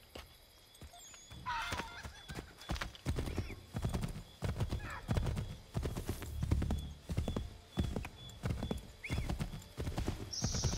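Horse hooves clip-clopping in a steady trotting rhythm in Assassin's Creed III, with a neigh or whinny near the start and game ambience around, no talk over it.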